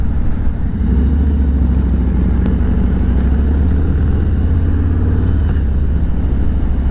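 Motorcycle ridden along the road into the La Manga strip, a steady loud engine drone with low rumble and wind throughout, no talking.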